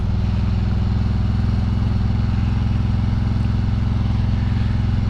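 Engine of a 2020 Harley-Davidson Road King Special while riding: a loud, steady, deep rumbling idle-like throb with an even pulsing rhythm, continuous throughout.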